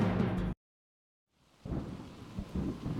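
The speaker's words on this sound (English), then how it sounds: "It's been pouring there for hours now." Heavy rain in a San Francisco storm roars loudly, cuts to near silence, then returns as a steady downpour with rumbling, thundery swells.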